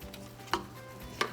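A spoon stirring risotto in hot veggie broth in a pan, two soft scraping strokes against the pan over a faint background hum, quiet and close, with no talk.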